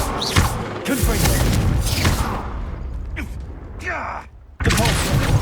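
Confringo fire spell explosions in Hogwarts Legacy, several loud booming blasts with crashing debris and rumbling effects that come in quick succession, a brief drop to near silence, then more blasts, with a voice calling out spell names over the combat.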